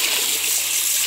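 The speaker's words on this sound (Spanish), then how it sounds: "Vamos nuevamente a llenarlo de agua" Water pours into a pot for boiling snails, a steady close rushing gush with no pauses and no voices over it.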